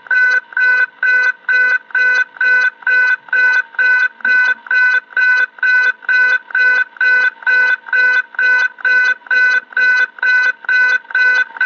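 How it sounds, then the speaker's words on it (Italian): A video game's ground proximity warning alarm in a MiG-21 flight pulses steadily about twice per second, loud and insistent, with no voices. "C'è l'allarme, il Ground Proximity Warning System."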